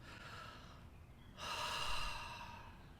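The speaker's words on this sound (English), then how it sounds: "so take a deep breath." A single deep breath, close and quiet, with a soft lead-in followed by a long, full inhale and a slow release.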